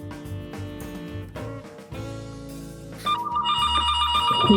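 A telephone rings with a repeated electronic tone, growing clearer and louder toward the end over background clatter and music-like sounds.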